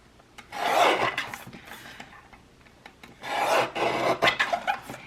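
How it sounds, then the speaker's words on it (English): Paper pieces being trimmed along their borders for a junk journal, two bursts of rough rasping cutting or tearing, close and fairly loud, separated by a quieter pause with small clicks. "I'm going to trim the borders off of these."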